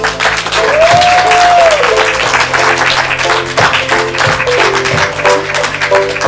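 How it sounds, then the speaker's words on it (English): Loud crowd applause and cheering at a live comedy improv show, close and continuous clapping with a whistle-like tone and sustained hum running beneath it. "Give him a round of applause."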